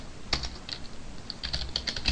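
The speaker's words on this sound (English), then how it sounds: "Let me type it right." Irregular clicking of typing on a computer keyboard while writing Java code, close and fairly quiet, with short bursts of keystrokes and brief pauses.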